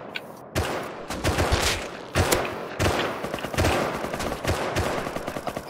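Dense automatic gunfire and rapid shot bursts in the survival game Rust, loud and continuous across the whole stretch with overlapping volleys and short pauses between strings of shots.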